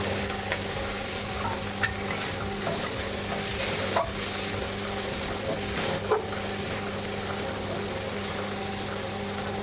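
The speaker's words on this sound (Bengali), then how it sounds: "এবার আমি এর মধ্যে দেবো এই যে রসুন কুচি পেঁয়াজ কুচি আর কাঁচা লঙ্কা" Chopped garlic, onion and green chili stir-frying with prawns in a pan, a steady close sizzle running throughout with a few scraping stirs, no talking.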